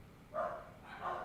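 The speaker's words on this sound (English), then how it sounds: "Sorry if you guys hear the dogs." Two Australian shepherds give two short, muffled barks from another room, faint and distant against a quiet background.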